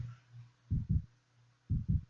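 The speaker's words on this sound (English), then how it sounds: "All I could hear was my heartbeat." A heartbeat effect in a horror story setting, with two deep, muffled double thumps about a second apart over a low hum, alone and with no talk.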